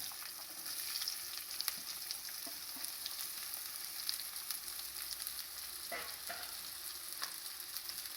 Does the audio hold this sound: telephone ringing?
no